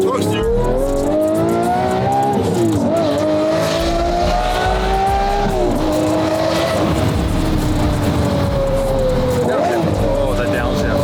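A manual Lamborghini Murciélago LP640's V12 revs loudly and continuously up close, its pitch climbing and falling through repeated sweeps, with people talking over it throughout.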